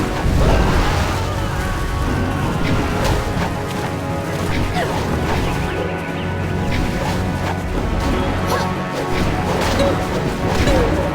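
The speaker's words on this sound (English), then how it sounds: "Cannon fire, look out!" Heavy cannon fire in the fantasy action video game Jade Empire: Special Edition, rendered as dense booming crashes and impacts layered over continuous battle noise and music, loud throughout with no pause.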